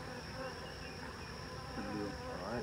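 Honey bees buzz steadily around a hive during queen cell work with queenless hives and mating nucs, a dense, continuous drone close by that fills the whole stretch without talk.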